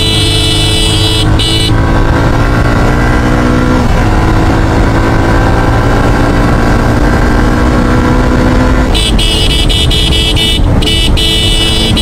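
Motorcycle accelerating hard along an empty road in the afternoon, the engine loud and close, its pitch climbing in stretches between gear changes, with a brief burst of horn-like tones near the end.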